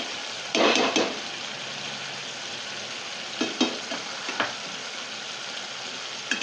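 Kashmiri red chilli powder and spice mix fry in oil in a pan with a continuous soft sizzle, broken by a few louder stirring scrapes near the start and again later.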